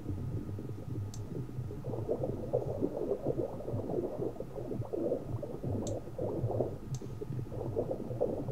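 Continuous bubbling, gurgling liquid sound with a few faint clicks, steady and close, like moving underwater, in a crowd simulator video game.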